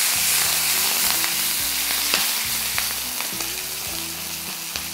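Curry leaves drop into hot oil for a tempering for pumpkin mukkala pulusu, with the stove just switched off, giving a loud, steady frying sizzle with scattered crackles and pops throughout, no voices over it.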